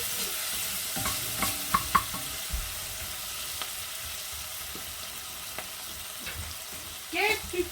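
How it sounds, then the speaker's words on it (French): Onions sautéing and being stirred in a pot while beef shank in beer is prepared, a steady sizzle with scattered scraping and knocks of a utensil, then a short burst of louder activity near the end; no talking. "Donc là, il faut bien faire revenir ces oignons."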